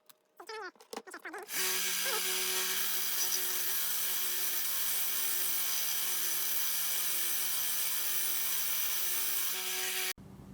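A screw head being sanded down on a powered sander for a GoPro Hero 9 Media Mod repair, with a short start-up followed by a loud, steady, even grinding whir that cuts off abruptly near the end.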